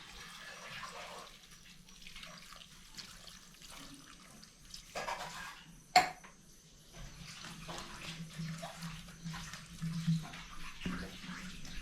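A glass of water poured into a pot of beef stew makes a soft, continuous splashing trickle, fairly quiet and close, with a single sharp knock partway through.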